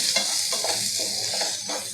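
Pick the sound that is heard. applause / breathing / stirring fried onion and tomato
stirring fried onion and tomato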